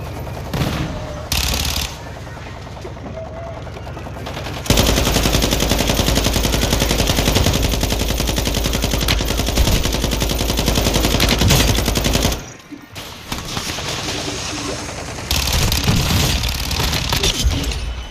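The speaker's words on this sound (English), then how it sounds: "They're shooting from outside." Video game shooting from outside, heard as sustained loud machine-gun bursts with a few brief pauses and lulls between the runs of rapid gunfire.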